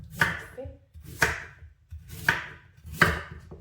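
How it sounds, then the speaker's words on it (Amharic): A knife chops sweet potatoes finely on a cutting board, four evenly spaced crisp strikes close up with quiet pauses between, no talking. "ከዛ በደቃቁ እንዲበስል በከትፈዋለሁ"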